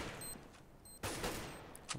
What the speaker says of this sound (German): Es sind natürlich einige Schüsse, die da in die Landschaft gefeuert sind.